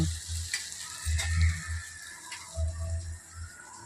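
Curry with chili powder sizzles and simmers in a pan, a bright frying hiss with low bubbling thumps and a few stirring scrapes, close and without talk.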